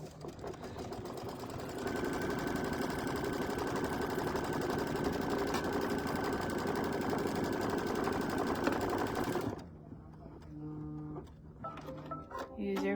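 A sewing machine runs steadily, stitching fabric down for a mug rug, a continuous mechanical whir for about eight seconds that then stops, leaving a quieter room with a voice speaking.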